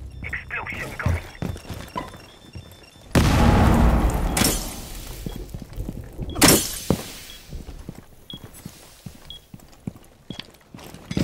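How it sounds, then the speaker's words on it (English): Explosion in a multiplayer video game match with bomb defusal, a sudden heavy blast that hits loud and rumbles off, followed by a second sharp burst, set among scattered clicks, thuds and game voices. "Explosion coming."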